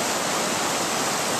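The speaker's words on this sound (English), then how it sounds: "if I put the bucket on there, the water's just going to rage around it" Rushing stream water at a gold digging spot, a steady loud broadband roar of fast-flowing water close by, continuous and unbroken with no voices.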